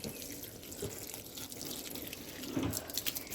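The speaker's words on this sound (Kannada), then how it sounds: "ಗಿಡಕ್ಕೆಲ್ಲ ನೀರು ಹಾಕ್ಕೊಂಡು ಬಿಡ್ತೀನಿ ಬೆಳಗ್ಗೆನೇ" Potted plants in front of a house are watered in the morning, with faint splashing and trickling water and a couple of soft drips over quiet background noise.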